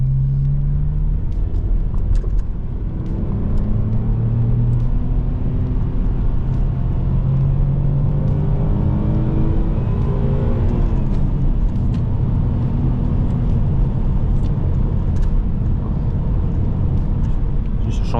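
An Alfa Romeo Brera 3.2L V6 JTS Q4, said to cut out at high revs, drones loudly and steadily from inside the car, its pitch climbing and falling through revs while people talk over it.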